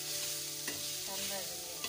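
Onion frying in a pan until browned for a chicken curry, a continuous close sizzle with a couple of light stirring scrapes, no talk.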